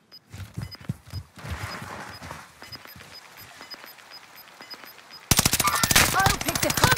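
Gunfire in a video game battle: scattered distant shots and thuds give way to a loud, rapid burst of automatic fire in the last couple of seconds.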